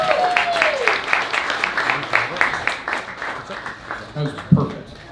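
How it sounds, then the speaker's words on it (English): Applause from a poetry reading audience rattles on at moderate level, uneven and thinning, with a voice speaking over it and a few louder knocks near the end. "One more round of applause for Emily Black-Brown."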